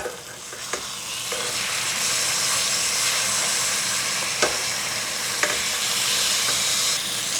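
Pork chops sizzle loudly and steadily in a frying pan as they are flipped, with a constant hissing fry broken by a few sharp clicks and scrapes of the turner against the pan.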